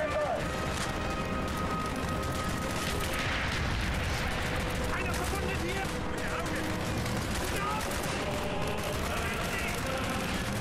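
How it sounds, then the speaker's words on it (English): Mortar strike explosions in Call of Duty Black Ops, Project Nova mission, with booming impacts and constant gunfire crackling through a dense, continuous battle din. "Let's get a mortar strike in there."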